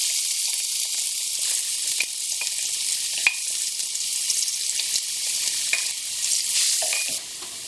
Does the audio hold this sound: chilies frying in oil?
yes